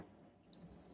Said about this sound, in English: it makes a nice high-pitched beeping noise when there's continuity